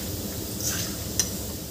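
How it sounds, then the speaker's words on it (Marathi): Chana dal frying in hot oil, a steady close sizzle with a couple of faint metallic clinks from a ladle against the pan. "त्यामुळे डाळवं आपल्याला तळून घ्यायचं आहे छान"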